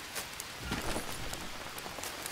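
Rain falls in the survival video game Green Hell, a dense hiss of drops pattering on surfaces, steady and fairly quiet, with no speech.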